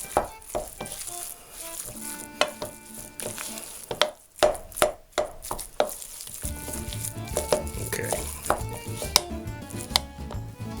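Meatloaf mixture being stirred and mixed in a bowl, a run of repeated scraping, clicking strokes with uneven rhythm, close and fairly loud, alone without talk.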